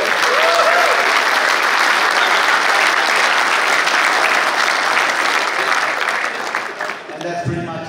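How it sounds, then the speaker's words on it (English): An audience at a BMW GS Safari 2022 motorcycle event in Tasmania gives a loud round of applause, dense clapping lasting about seven seconds before tapering off, with voices faintly beneath. "a big round of applause to you guys."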